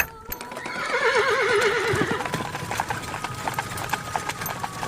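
A carriage horse whinnies loudly in a long wavering call, followed by a series of hoof clops on a hard surface.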